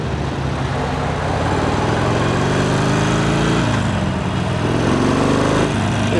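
A 2009 Harley-Davidson Sportster Iron motorcycle engine idles steadily and loudly throughout, a continuous low rumble with slight shifts in pitch, no voices.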